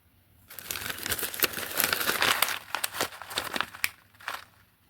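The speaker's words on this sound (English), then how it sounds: "So they're a bag of just paper beads." A bag of paper baking beads crinkles and rustles as it is handled up close, loud irregular crackles with sharp snaps, then fading to quiet.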